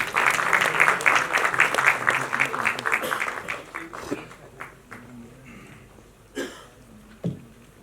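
An audience applauds at a film cast reunion party, with dense clapping that peaks early, thins into scattered claps, then gives way to a few isolated sounds.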